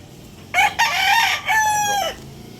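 Pumpkin Sweater gamefowl rooster crowing nearby, one loud crow in two drawn-out parts against quiet background noise.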